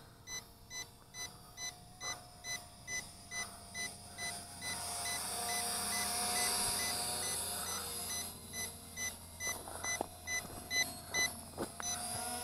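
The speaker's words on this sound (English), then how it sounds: "Pretty long warning for the low battery." Repeated electronic beeps from an Attop W9 GPS camera drone's low battery warning, sounding in a steady rhythm of about two per second, briefly fading under a rising whir mid-clip, then returning clearly.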